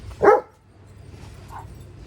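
A single loud bark from a nearby dog, followed by a fainter yip a moment later over quiet outdoor background noise.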